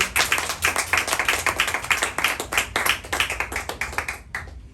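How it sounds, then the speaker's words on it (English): Audience clapping for a young poet at a poetry reading, a brisk, even series of distinct claps from a small crowd that fades out near the end. "So a round of applause for Arya."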